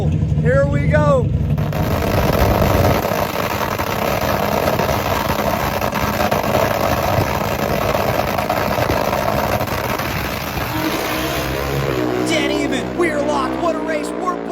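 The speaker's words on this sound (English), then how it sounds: "Where else can you watch one of the world's quickest Turbo Hayabusas take on an NHRA Pro Stock Motorcycle Buell?" A Turbo Hayabusa and an NHRA Pro Stock Buell motorcycle drag racing: loud, sustained engine roar from launch through the run, with a commentator talking over it and a shifting tone near the end.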